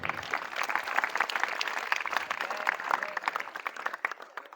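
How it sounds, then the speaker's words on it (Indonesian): Students at an Islamic boarding school (pesantren) clap together in a dense, continuous burst of applause that stays loud and even for several seconds before thinning slightly at the end. "Tepuk tangan buat yang baca."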